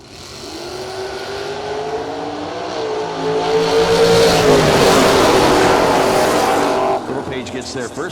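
A Chevelle and a Mustang drag racing at a classic car meet, engines roaring and rising as they launch and pull away, loud and sustained, with an announcer talking over the run.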